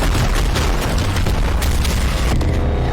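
A massive explosion levels a city in a video game, a loud sustained roaring boom with rumbling bursts and crackle filling the whole stretch at very high volume.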